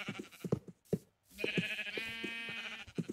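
Sheep bleat in the Minecraft video game, several overlapping calls at close range, with a sustained wavering bleat running through the second half over short repeated blocky sounds.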